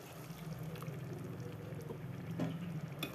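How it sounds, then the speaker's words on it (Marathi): Water poured into a pan of cooking mixed vegetables with paneer and capsicum, a steady low splashing pour running for about three seconds at moderate level, with a brief brighter splash near the end. "तर आपण आता याच्यात थोडंसं पाणी टाकूया"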